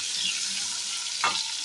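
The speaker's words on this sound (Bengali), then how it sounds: "আলুগুলো হালকা ভাজা ভাজা হোক।" Potatoes frying lightly in hot oil in a pan, with bay leaves, give a steady soft sizzle throughout and one brief stir or clatter near the end.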